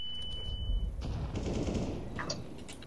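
Rapid gunfire in a competitive Counter-Strike: Global Offensive match on the Inferno map, a dense automatic burst followed by several scattered shots, loud and close with no talk over it.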